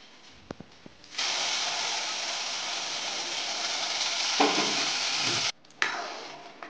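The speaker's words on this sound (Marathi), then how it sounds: "आता हे गरम केलेलं दूध टाकते." Heated milk pours into a pan of chikoo sheera, starting as a loud, steady hiss and sizzle that runs for several seconds, with a brief break and a few clinks near the end.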